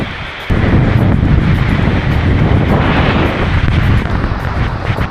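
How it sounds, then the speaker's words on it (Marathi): Kataldhar waterfall near Lonavala, standing behind the falling curtain of water: a loud, steady broadband roar of cascading water with a wind-buffeted rumble, continuous throughout with a sudden jump in level near the start. "वरून असं पाणी पडतंय आणि त्याच्या मागे आपण थांबलेलो आहे"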